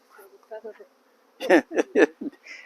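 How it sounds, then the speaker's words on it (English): Honey bees buzz close by in uneven bursts, the droning swelling and fading several times. "we have bees in the air."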